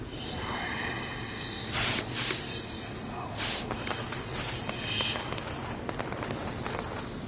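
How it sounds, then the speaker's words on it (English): Fireworks in a PS4 video game: several sharp bursts and crackling pops with whistling trails, spaced over a few seconds against a low background hum. "we'll get to see some cool fireworks"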